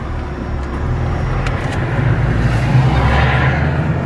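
A Ford Fiesta ST car gives off a steady low engine and road rumble, heard from close by and fairly loud, with no talking.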